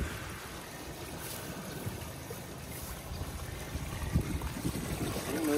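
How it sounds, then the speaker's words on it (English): Water gushing from a 3-inch pump line into a nearly full 8-inch pipe at a gravel pit, a steady broadband rush with gurgling, fairly close and continuous, with no talk over it. "Yep, so we got water coming out."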